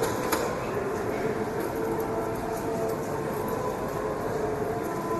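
A Moscow metro 81-765 train runs on the Sokolnicheskaya line, a steady loud underground rumble with rail hiss and a faint whining tone, heard from inside the car.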